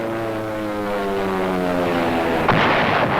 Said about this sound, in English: That's our dive bombers going into action.